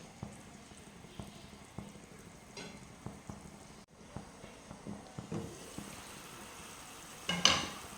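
Salted water heating in a pan for masala dosa filling gives a steady, soft bubbling hiss with faint ticks and small pops throughout, ending in a slightly louder clatter.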